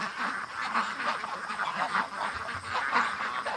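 A group of stressed ducks in a yard quack repeatedly in overlapping bursts, fairly close, with a faint background hiss and no talking.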